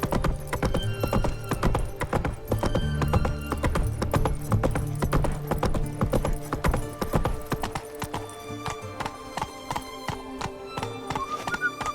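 Roach, Geralt's horse in The Witcher 3, walks with steady clip-clopping hooves over a dense bed of game music and ambience, the hoofbeats continuous throughout with a brief whinny-like tone near the end.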